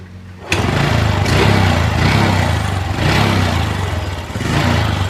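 A Honda Revo Absolute motorcycle with a suspected electrical short starts with a sudden catch and then runs at a steady, buzzy idle, close and loud, its single-cylinder rattle pulsing slightly over five seconds with no talking.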